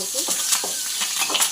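Curry leaves dropped into hot oil with garlic, dried red chillies and onion, giving a brief burst of bright crackling and spattering, close and fairly loud.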